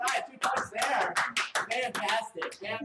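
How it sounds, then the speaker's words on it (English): Enthusiastic studio applause on a live-streamed game show, a dense near round of clapping with cheering voices mixed in, steady throughout. "Very, very enthused round of applause for Zach."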